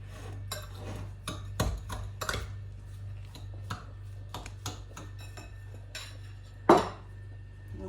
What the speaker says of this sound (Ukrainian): Все гарно перемішаю.